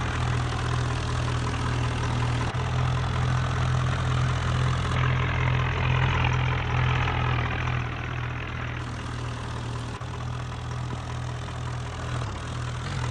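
A Swaraj 963 tractor engine in a video game, hauling a trailer up a slope, gives a steady, loud, low drone that shifts slightly in pitch and runs throughout with no talking.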